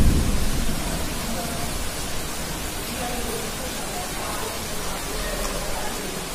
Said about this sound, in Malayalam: നല്ല ഇടി കുടുങ്ങുന്നുണ്ട്.